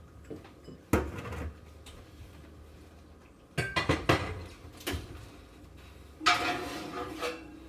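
Meatball ingredients being mixed by hand in a bowl for spaghetti and meatballs, heard as scattered clinks and knocks against the bowl in three bursts, with quieter shuffling between, no talking.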